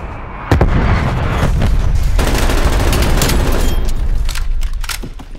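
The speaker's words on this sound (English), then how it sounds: "Artillery inbound." Artillery strike explosions in a video game, with a dense barrage of loud booms and crackling blasts that rumble on continuously after a sudden start.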